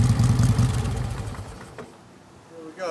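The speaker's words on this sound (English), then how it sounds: "Listen to the beat of this engine. Just has a great sound to it." A 1956 Harley-Davidson FLH motorcycle engine idling nearby, a loud uneven loping beat at first that fades away, followed by a brief voice at the end.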